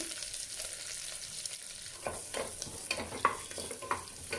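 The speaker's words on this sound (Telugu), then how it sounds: "కాస్త వేగనివ్వండి ఇవి కొద్దిగా వేగిన తర్వాత" Onions and green chillies fry in a pan with a soft, faint sizzle, while a spoon stirs and scrapes through them in a handful of light strokes, close by and without talk.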